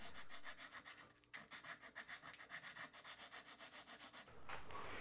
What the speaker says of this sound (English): one thing I need to do is sand that wood with progressively finer grits so that the surface texture matches the rest of the neck